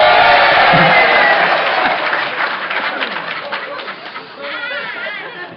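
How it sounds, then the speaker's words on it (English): An audience at a regional roundup in Johnson City, Tennessee claps loudly at first, then the applause thins into scattered claps and fades. A few voices call out near the end. "guys you will clap at anything."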